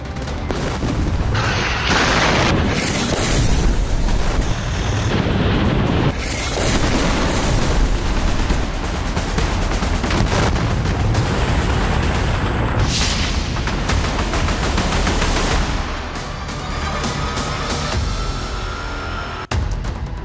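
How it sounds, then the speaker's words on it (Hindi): Bombs exploding in Middle East conflict footage: a loud, dense run of booms and blasts with crackling gunfire-like bursts, continuous and heavy throughout with no talk. "दूसरी तरफ मिडिल ईस्ट की तस्वीरें आपको दिखाऊंगा, जहां पर लगातार बम बरस रहे हैं।"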